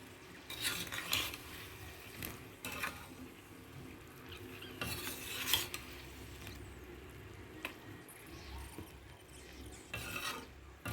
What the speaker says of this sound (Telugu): ఇట్లా తిప్పుతూ మూత పెడుతూ ఉడకబెట్టాలి మధ్య మధ్యలో తిప్పుతూ ఉండండి